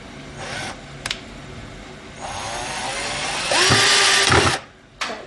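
A Bosch cordless drill driver runs in short bursts at a workbench, its motor whining up and holding pitch for about a second, then stopping with a click.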